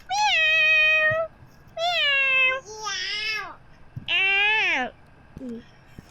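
A voice imitates a cat, giving four drawn-out, rising and falling meows in a row, close and loud, with a short, softer vocal sound at the end.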